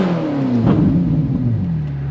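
A Ferrari 458 engine, exhaust valves open, rises in a brief loud rev and then settles back, its deep close-up drone sliding down in pitch, with no talk over it.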